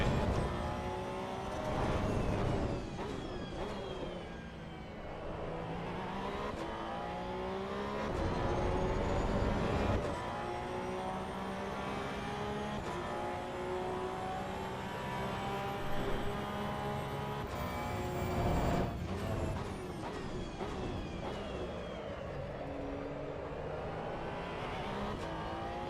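A Porsche Cup race car in the AC Evo racing game at Circuit of the Americas, its engine revving up and down through repeated gear shifts and braking, loud and continuous throughout with no voices over it.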